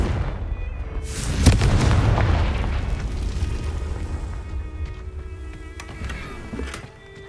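A fiery Confringo spell blast in the Hogwarts Legacy game goes off with a sharp, loud boom, then a long rumbling roar that slowly fades.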